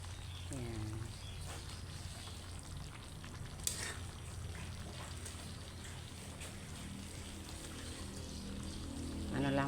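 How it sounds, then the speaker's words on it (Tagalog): Pasta cooking in a pan, with a steady close sizzle and frying hiss throughout and occasional stirring clinks, and faint talk in the background. "Niluluto na natin yung ating pasta."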